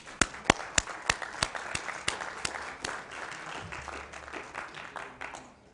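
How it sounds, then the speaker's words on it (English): Applause at a panel forum, with a burst of sharp, separate claps at the start, then a steadier, denser patter of clapping that thins out toward the end. "I'd like to give everybody a round of applause"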